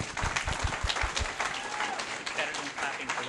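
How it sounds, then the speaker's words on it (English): Dense, steady applause from an audience at a transgender leadership summit's opening plenary fills the moment from start to finish, sounding close and moderately loud. "So give yourselves a round of applause"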